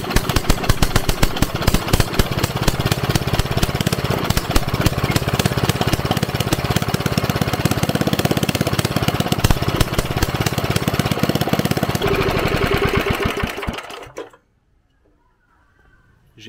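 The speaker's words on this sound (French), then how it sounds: "le moteur il a démarré, il tourne" A riding lawn mower engine with a badly tuned carburettor runs loud and close, chugging and knocking unevenly for about fourteen seconds before cutting out abruptly into near silence.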